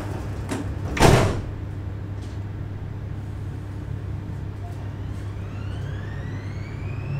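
Doors of a Siemens M1 Prague metro train closing: a single sharp thump near the start, then a steady low hum of the stopped carriage with faint rising tones of the train starting to move.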